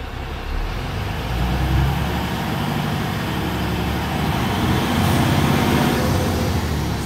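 A manual car fitted with an auto clutch system accelerates with a steady, rising engine and road drone, recorded close up without voices.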